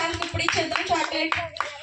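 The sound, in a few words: children clapping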